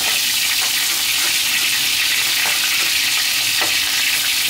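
Chicken wings pan-fry in hot fat, a dense steady sizzle and crackle that runs loud and unbroken, with occasional faint clinks from the pan and no voices.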